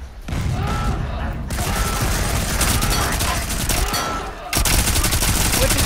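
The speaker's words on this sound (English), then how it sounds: "And it opens fire." Automatic gunfire from drillship defenses in Volcanoids opens up, sustained and loud for several seconds with a brief lull near the end before the firing resumes.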